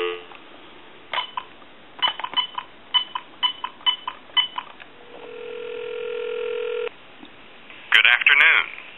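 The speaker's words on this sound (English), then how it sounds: "We'll call it time and temp, or some dial tone." A telephone on a regular phone line beeps through a series of short dialing tones, then holds a steady dial tone for about two seconds before it cuts off. A burst of harsher sound follows.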